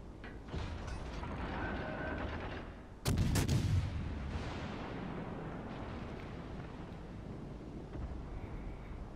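A naval gun volley from the RM Montecuccoli cruiser in World of Warships Legends cracks loudly about a third of the way in, then fades over a steady low battle rumble and faint mechanical clatter, with no voices.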